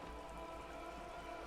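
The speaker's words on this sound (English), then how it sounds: "All around you, rain keeps falling down." Rain in the video game Disco Elysium falling on wooden boards and open water, a steady soft patter and hiss, faint and even throughout.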